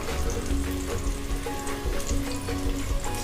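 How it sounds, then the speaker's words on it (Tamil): Ginger garlic paste frying in hot oil for a mutton biryani made in a pressure cooker, giving a steady, close, dense sizzle that keeps going without pause and without any talking. "நல்லா இஞ்சி பூண்டோட ஃப்ளேவர் வந்து நல்லா போகிற வரையும் நம்ம ஃப்ரை பண்ணி இப்போ எடுத்துக்கலாம்"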